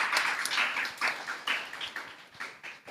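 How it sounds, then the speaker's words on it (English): Audience at a primary schools' football tournament press briefing in Nevis applauding the coaches, a light patter of claps from a small crowd, moderately close and steady throughout. "I also would like us to applaud them also."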